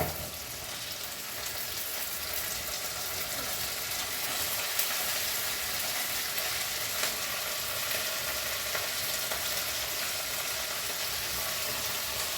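Mint leaves and green chillies frying in a pan for a pudina tomato mango pachadi chutney, a steady close hiss of oil sizzling without a break, with no voices.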